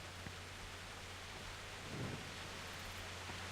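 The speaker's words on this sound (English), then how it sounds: "Oh, it's raining." Faint, steady rain hiss with a soft low rumble of thunder swelling briefly in the middle, distant and quiet throughout, in the video game Kingdom Come: Deliverance.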